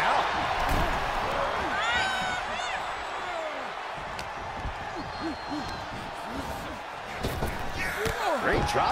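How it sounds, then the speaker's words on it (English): A wrestler's dropkick landing in the WWE 2K23 video game, with thudding impacts and a slam over steady arena crowd noise while commentators talk. "Great dropkick."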